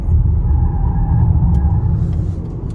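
A Honda Accord, performance trim with a CVT, rumbles steadily through a hard left turn at a dealership lot in Texas, its engine and road noise loud and close with no voices.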